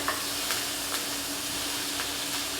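Steak sizzles loudly in a pan with butter, thyme and garlic, a constant close frying hiss with faint periodic ticks and spatters and no voices.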